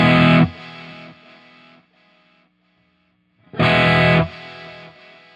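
A distorted guitar plays through a stereo tape echo placed after the splitter on a Fender Tone Master Pro, with two loud strummed hits that each trail off into fading echo repeats.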